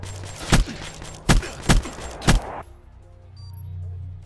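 A rapid-fire sniper rifle in a shooter video game's 3v3 search-and-destroy match: four loud, sharp shots in quick succession, the last three about half a second apart, then a quieter tail of game ambience and chimes.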